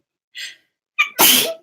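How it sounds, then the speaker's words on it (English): A single loud sneeze, with a brief sharp inhale just before the burst, then quiet. "Oh my god, I'm gonna sneeze."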